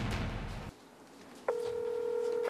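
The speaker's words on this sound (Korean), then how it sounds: "한번 전화 연결해볼까요?" A telephone line connecting a call: a short burst of noise, a brief quiet gap, then a steady, clear electronic line tone that holds until the end, with no talk.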